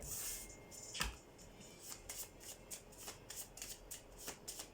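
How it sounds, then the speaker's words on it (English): A deck of cards is shuffled close up: a sharp riffle followed by a quick run of soft, rhythmic flicks and bridging sounds, with no voices. "now I'm gonna shuffle the cards to see what sign is gonna come up"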